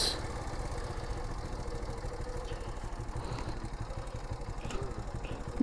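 A trawler boat's engine idles at a river crossing, a low, even mechanical chug with a steady throbbing rhythm, moderately near and continuous, with faint higher clinks and noises scattered over it.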